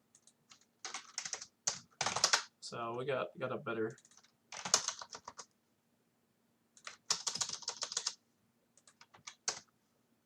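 Computer keyboard typing comes in quick bursts of clicky keystrokes, close and fairly quiet, broken by pauses, with someone talking briefly between the bursts.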